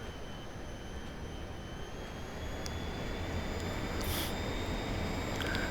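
Large jet airliner in the flight simulator Aerofly FS 2, its engines giving a steady broadband roar with a high whine above it, growing slightly louder toward the end, with no talk.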